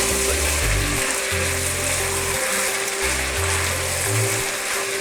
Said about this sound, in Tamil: அந்த தக்காளியை இதில் சேர்த்துக்கலாம். சேர்த்துட்டு இந்த தக்காளி வந்து சாஃப்ட் ஆகிற வரைக்கும் நீங்கள் வதக்குங்க.